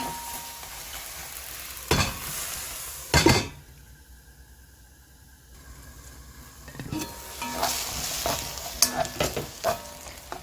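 Chopped garlic scapes fry in a pan over medium heat, a steady close sizzle with sharp clanks of a utensil and stirring scrapes, a quieter spell in the middle, then busier clattering toward the end.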